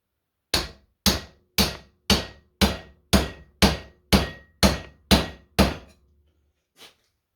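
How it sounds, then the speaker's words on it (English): A hammer strikes a copper pipe to drive a part into a Wascomat W125 washer motor during reassembly. There are eleven sharp, evenly spaced metallic blows, close and loud, then a pause and one lighter tap. "We're going to use the copper pipe again to drive it in the rest of the way."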